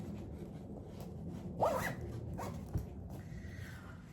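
A zipper runs on a small cactus-print pouch with a green zipper pull, giving a brief soft rasp followed by a fainter second pull over quiet room noise.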